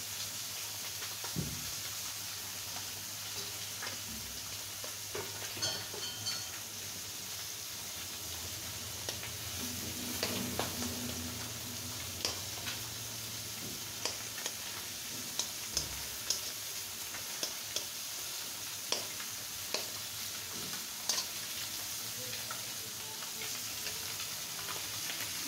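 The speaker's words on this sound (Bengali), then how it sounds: "এখন এটা আমি সুন্দর করে লাল লাল করে ভেজে নেব।" Rohu fish pieces fry in oil in a pan, giving a faint, steady sizzle with scattered small ticks and pops over about 25 seconds, heard from a distance with no talking.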